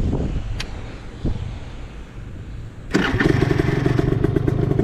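A scooter with a weak, recharging battery tries to start, with a couple of faint starter clunks amid wind noise, then the engine catches at about three seconds and idles loudly and steadily to the end.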